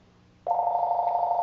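Telephone ringing indoors, a single sustained electronic ring tone starting abruptly and holding steady, loud and close with no talk over it.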